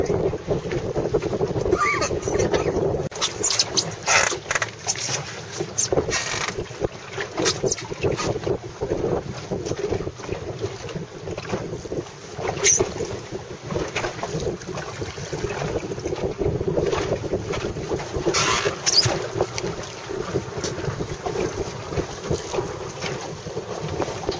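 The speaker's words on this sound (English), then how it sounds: "We are in a boat" A boat moves across open water near a yacht club, with wind buffeting the microphone, waves splashing against the hull and an occasional distant voice.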